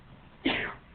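A single brief, soft sneeze, quick and somewhat muffled, in an otherwise quiet room with faint background hiss.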